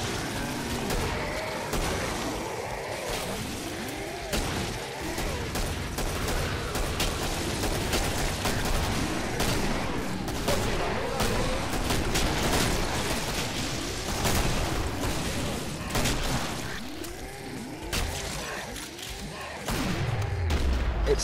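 Rapid bursts of gunfire and booms in the co-op shooter Killing Floor, loud and dense throughout, with repeated shots layered over a busy game soundscape.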